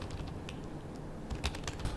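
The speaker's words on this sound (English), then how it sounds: "So type in the address." Quick, light keystrokes on a computer keyboard, irregular and fairly close, over a steady hum of background noise.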